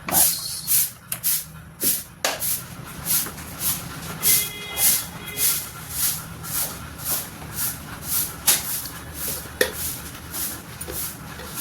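Oil heating in a kadhai on the stove for cooking colocasia, a soft steady sizzle and hiss with a rhythmic crackling pulse, fairly quiet and close, with no talking.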